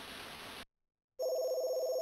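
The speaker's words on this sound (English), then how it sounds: "Suddenly, I heard something ring, the sound mixing in with that of the falling water. Was it the phone in the living room?" An electronic telephone rings in the WonderSwan horror game Dear Friend. One steady trill sounds, breaks off into a short silence, then rings again, clear and alone, with no voices.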